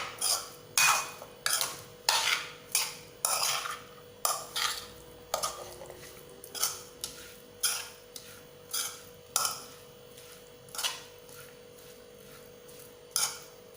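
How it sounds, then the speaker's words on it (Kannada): A carrot pickle with its oil tempering is stirred in a pan, a steady series of about a dozen and a half scraping strokes of a utensil against the metal, evenly spaced and close, with no talk. "ಒಗ್ಗರಣೆ ಚೌಲಿ ಆದ ಕ್ಯಾರೆಟ್ ಪಾಡ್ದು ಫುಲ್ ಮಿಕ್ಸ್ ಮಾಡ್ತೀನಿ ನಾನು"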